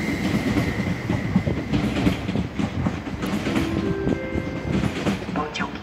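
An ER160 electric passenger train rolling into a station, a loud rumble with clattering wheels over rail joints and brief squealing tones as it slows, no talk audible.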